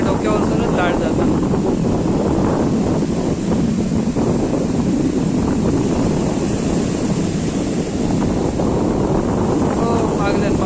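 Rough, churning sea during net fishing roars continuously at high volume, waves crashing close by and wind buffeting the microphone, with voices partly buried beneath.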